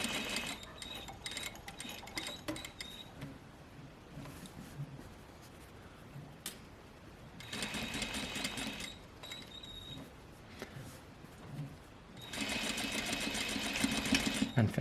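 A sewing machine stitches a single welt pocket in several fast whirring runs, near and steady, separated by quieter pauses with small handling sounds.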